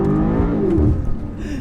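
A BMW M5 CS sports sedan accelerates hard through second gear, its engine a loud, close, rising roar that shifts pitch partway through.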